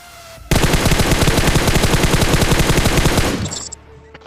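Sustained rapid automatic gunfire from a mobile battle royale game, a loud continuous burst of dense repeating shots lasting about three seconds before cutting off.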